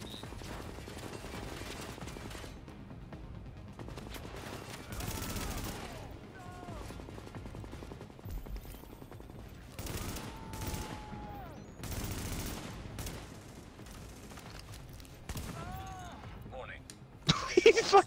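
Gunfire from the video game The Division comes in scattered bursts and volleys, some rapid like automatic fire, mixed with game effects and players talking over it.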